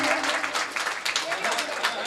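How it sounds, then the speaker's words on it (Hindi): A crowd breaks into brisk clapping, close and fairly loud, with a voice or two mixed in beneath the applause. "तालियां बजा दीजिए"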